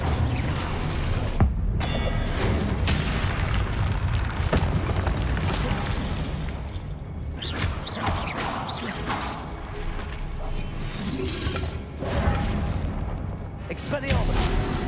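Confringo blasting spells in Hogwarts Legacy, heavy booming impacts repeating through a dense, loud battle mix of effects and music, with voices calling out spells over it.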